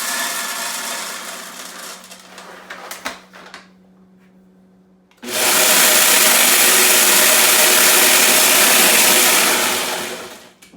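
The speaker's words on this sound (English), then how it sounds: "So I take her wet food and add water to it and then put it in the food processor" A food processor blends wet cat food with water. Clattering handling sounds come first, then a loud steady whirring motor runs for about five seconds and cuts off.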